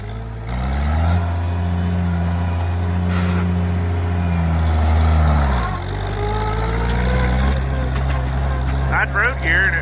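An Oliver 770 tractor fitted with a Farmhand loader pulls along in road gear. Its engine drones loud and close with steady low harmonics, then dips and climbs again as the load and revs shift.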